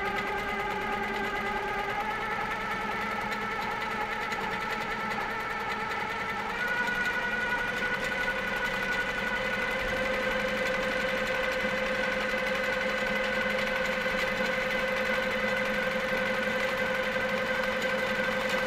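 A sewing machine stitches a quilt with a steady, continuous mechanical hum and whirring motor tones, running close and unbroken throughout, its pitch shifting slightly partway through.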